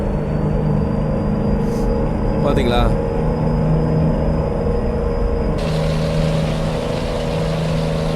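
Truck cab interior engine drone in Euro Truck Simulator 2, a steady low idling rumble with a faint high whine running beneath a man's speech.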